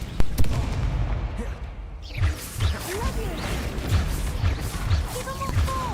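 Confringo and Bombarda spell blasts in the Hogwarts Legacy video game: a series of booming impacts and crackling bursts with whooshing magic effects, repeated every second or so, fairly loud, with game voices mixed in.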